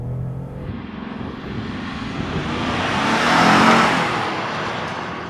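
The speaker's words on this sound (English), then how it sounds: "The new Ford F-150 Platinum. Power boost. With no launch control." A 2024 Ford F-150 Platinum PowerBoost twin-turbo V6 in sport mode accelerates hard, a rising roar that swells from near to loudest past the midpoint and then eases off, with no talk over it.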